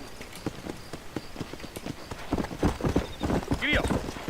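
A horse gallops in the Red Dead Redemption video game, with rapid, close clip-clopping hoofbeats and a brief whinny near the end, heard under a voice.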